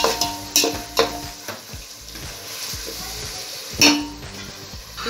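Ginger garlic paste is stirred into onions in a cooking pot for Ambur-style mutton dhalcha, with a spoon scraping and clinking against the metal over a steady sizzle of frying, plus a couple of sharp knocks.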